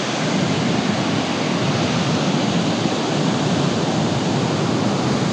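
Roadside waterfall in the North Cascades, a steady, loud broadband rush of falling water that holds an even roar throughout with no voices.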